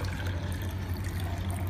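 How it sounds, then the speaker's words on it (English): Water pours steadily into an Ozmo smart cup, a soft continuous trickle close by with no talk. "now let's try to pour some water into the Ozmo cup."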